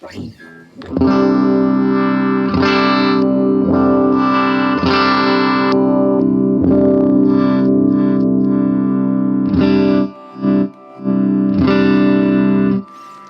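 A Fender Standard Stratocaster with a slightly gritty, overdriven tone strums sustained chords, with a few brief pauses near the end; no voices are heard.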